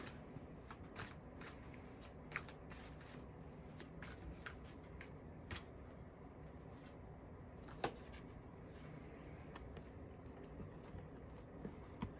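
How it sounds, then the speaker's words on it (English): Oracle cards from an Art of Manifestation deck being shuffled by hand, a soft, steady riffling texture with faint card snaps and occasional sharper clicks, quiet and close with no talk. "I'm going to pull from the Art of Manifestation Oracle cards deck today"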